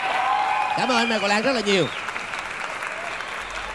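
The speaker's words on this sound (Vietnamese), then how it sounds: "dành một tràng pháo tay nữa cho Vũ đoàn Phương Việt" Studio audience applauding and cheering on a Vietnamese TV singing competition, loud clapping throughout while a host talks over it and a sung or vocal flourish rises briefly in the middle.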